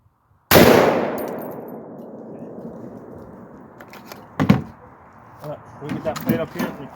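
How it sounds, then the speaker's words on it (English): One loud AR-10 rifle shot hits a mild steel plate at 30 yards, with a sharp crack and a ringing decay, followed by scattered handling knocks and rustles. "Just going to fire one round into that plate."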